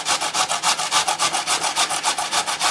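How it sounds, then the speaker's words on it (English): Carrots are grated by hand for zucchini muffins in fast, even back-and-forth rasping strokes, close and loud, about twenty strokes in under three seconds. "Shave the living you-know-what's out of the carrots."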